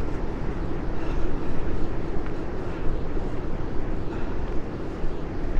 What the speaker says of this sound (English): That wind is coming right at me now.